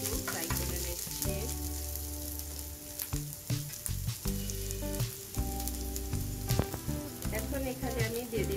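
Ginger garlic paste lightly frying in a pan, a loud close crackling sizzle with stirring scrapes, and a steady low hum sits beneath the frying throughout.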